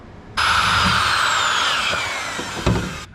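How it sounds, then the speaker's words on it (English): A power drill whirs loudly for nearly three seconds, driving a self-tapping screw into a Nissan 240SX transmission tunnel, with a brief clunk and dip near the end. "I'm just drilling in some of these self-tapper screws"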